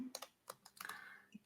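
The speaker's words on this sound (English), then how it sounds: "where you can see what I'm typing" Keystrokes on a computer keyboard, a few scattered soft clicks with short pauses between them, close and quiet, with no talking.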